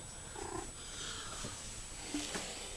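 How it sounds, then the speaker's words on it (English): Porch kittens and their mother make faint, soft meows and small purring sounds, a few short calls close by against quiet background hiss. "Oh, don't meow at me."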